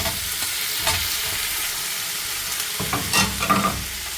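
Tomatoes, onions, garlic and green chillies fry in a pan, a steady sizzle broken by several sharp stirring scrapes and clinks toward the end.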